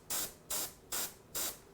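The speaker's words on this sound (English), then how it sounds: "if I pull my airbrush back a little bit more, see I can" An airbrush sprays a fine paint mist in four short, even hissing bursts with brief pauses between them, close and clear, with no talking.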